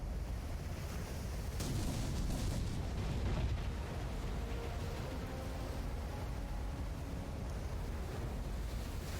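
Ship cannons fire a broadside in Port Royale 4. Heavy booming blasts and rumbling roar together with wash and wind-like noise, loud and dense throughout with a strong surge near the start.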